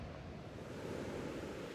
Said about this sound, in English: you can listen to the waves coming in behind me